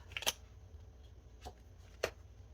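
A few quiet card riffles and soft snaps, sparse and close, in an otherwise still room with a faint low hum.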